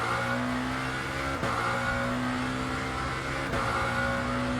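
A Lamborghini SC63 LMDh prototype race car in the Le Mans Ultimate sim racing game drones at steady high revs, a strong tonal engine note with two abrupt breaks like gear shifts, heard alone and fairly quiet.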